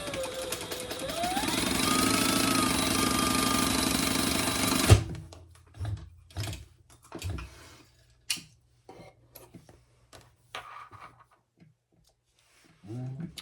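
Sewing machine basting a bag's slip pocket shut 1/8 inch from the edge while making a hobo-style shoulder bag. It runs as a steady, close whir for about five seconds, then stops, followed by scattered clicks and handling noises.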